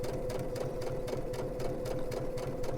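Sewing machine running steadily while a piping foot stitches fabric piping, a continuous close whirring hum with a fast regular needle rhythm and no talk.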